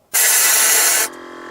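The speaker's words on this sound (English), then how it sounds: "I like to get it right into that flue so I can shoot compressed air up it and dislodge anything" A Viair compressor sends a sharp hissing blast of compressed air into an RV refrigerator's LP gas burner flue, starting abruptly and lasting about a second, then cutting to a quieter lingering hiss.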